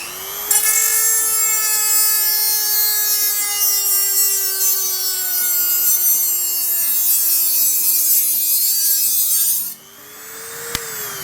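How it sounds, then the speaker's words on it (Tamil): An INGCO mini grinder rotary tool set to speed four cuts steadily, throwing sparks, a loud high-pitched whine holding for about nine seconds before spinning down, with no talking. "நாலில் வச்சு கட் பண்ணும்போது நல்லாவே கட் ஆகுது."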